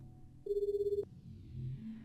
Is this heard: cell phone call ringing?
yes